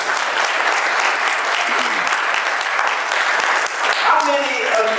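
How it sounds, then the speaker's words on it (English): A church congregation claps hands in praise, a dense, loud, continuous wash of applause that holds steady for five seconds, with a few voices rising through it near the end. "just give him a hand clap of praise."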